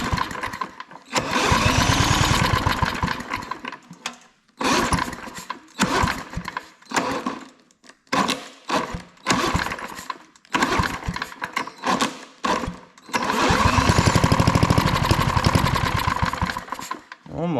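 A drill fitted with a 15/16 socket cranks a vintage 1955 Firestone push mower engine in repeated whirring bursts of a few seconds each, separated by pauses, with two longer strained runs that fail to start it.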